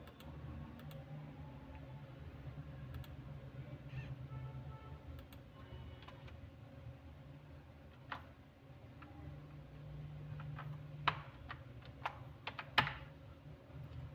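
Keys clicking on a computer keyboard while an ID number is entered for an R307 fingerprint sensor project with an Arduino Uno, quiet steady tapping over a low hum that ends in a few sharper, louder keystrokes.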